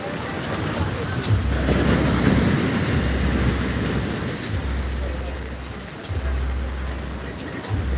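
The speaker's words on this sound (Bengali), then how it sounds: "ঢেউ দেখুন পুরো রাস্তার ওপরে জল" Sea waves surging over the road at Digha beach in rain, a heavy continuous roar of churning water with rising and falling swells, buffeted by wind noise, no clear talk.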